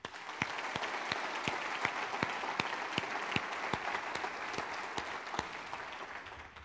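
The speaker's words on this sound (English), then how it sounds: "let's take another round of applause of our participants today" Audience applause at a live-streamed university event, a dense, sustained wash of many hands clapping with a few sharper individual claps standing out, steady throughout.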